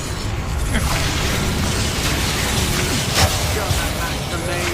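Reductor spell blasts in Hogwarts Legacy during a fight in a goblin mine, a dense, continuous rumble of booming bursts and impacts under battle noise, with a sharper pop near the middle.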